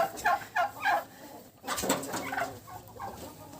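Young turkeys, including a small black hen, gobble in a village yard; a few rapid, warbling bursts come close together and fairly near, with a brief pause before another run of calls.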